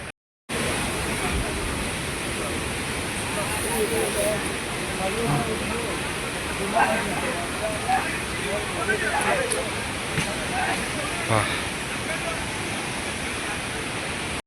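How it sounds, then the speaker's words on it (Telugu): Mankadadian waterfall in Odisha, a steady broadband rush of falling water that continues unbroken, loud and close, with faint voices in the background. "ఇదైతే మంకాడియన్ వాటర్ ఫాల్"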